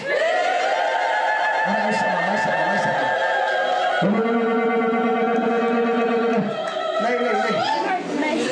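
A church congregation at an Ethiopian Amharic sermon ululates together, a loud, sustained, high warbling chorus that wavers in pitch, breaks off briefly partway through, then resumes.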